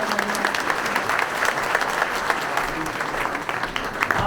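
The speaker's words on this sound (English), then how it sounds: "Please give them a round of applause for their generosity." A room full of people gives a hearty round of applause at a retreat center gathering, continuous close clapping with a few louder individual claps standing out.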